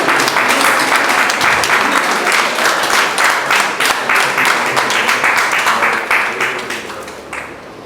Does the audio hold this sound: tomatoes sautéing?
no